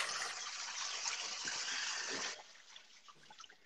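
Water pours in a steady rushing stream as soaked instant noodles are drained, then tapers off into scattered drips and splashes; no one speaks.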